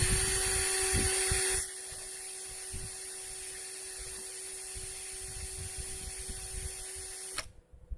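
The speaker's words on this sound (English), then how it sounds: "now using a drill that slow is a compromise" An Archer chainsaw sharpening grinding bit with a 1/8-inch shaft and 7/32-inch stone spins in a slow drill, giving a steady high whine that is louder at first, then settles to a quieter grind before cutting off.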